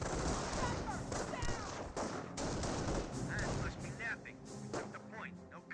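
Rifle fire from a squad garrisoned in a building in the strategy game Company of Heroes, dense overlapping gunshots and battle noise continuing loudly throughout with no talk.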